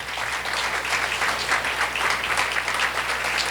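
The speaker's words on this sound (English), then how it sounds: "we should give him another round of applause for his leadership" An audience at a contracting opportunities outreach event claps steadily, a dense, even wash of many hands that stays loud for the whole stretch with no voices over it.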